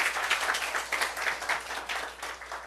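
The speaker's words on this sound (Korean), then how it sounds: "우리 하나님께 박수 올려드려요" Church congregation during a Sunday service clapping at a fairly quiet level, with the claps bunching into a loose, pulsing rhythm over a couple of seconds.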